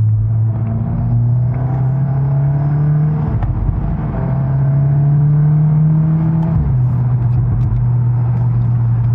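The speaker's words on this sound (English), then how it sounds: "this four cylinder sounds, it sounds amazing for it to be a four cylinder." A VW MK8 Golf R four-cylinder engine fitted with an APR intake drones loudly from inside the car, rising steadily through the gears in two long acceleration pulls with a gear change between them.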